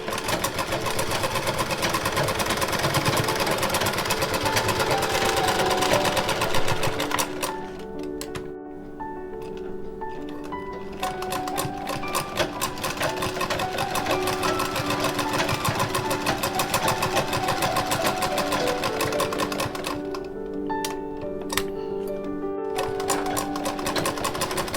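A sewing machine stitches fabric for a small ghagra skirt, a steady rapid mechanical clatter running continuously, with two short pauses where the needle stops before resuming.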